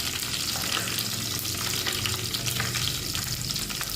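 Mustard seeds, urad dal and cumin crackle and fry in hot oil while cooking a prawn dish, a loud, continuous sizzle with scattered pops and the scrape of stirring.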